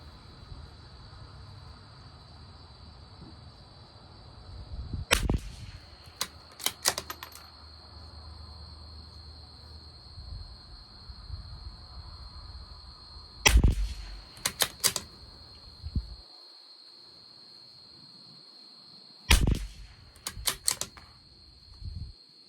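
Five sharp rifle shots from a Tikka T1X rimfire with SK Standard Plus ammunition at a 50-yard range, spaced irregularly with clicks of handling between, under a constant steady hum.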